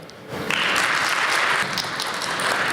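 Audience applause fills an award ceremony hall, a dense, steady wash of many hands that swells quickly and holds at full strength to the end.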